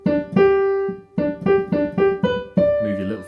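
Solo piano plays the opening phrase of Mozart's Eine Kleine Nachtmusik in a beginner arrangement, with clear repeated notes and short pauses between phrases, close and bright.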